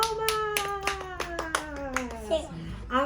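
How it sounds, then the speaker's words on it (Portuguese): A group, including children, claps hands in a steady rhythm during a rosary prayer gathering, loud and close, with voices singing or speaking over the beat. "vamos, gente. Palmas!"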